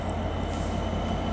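A GBRF Class 66 freight locomotive passes at Peterborough on the East Coast Main Line, a steady low diesel rumble with continuous rolling noise throughout this brief moment.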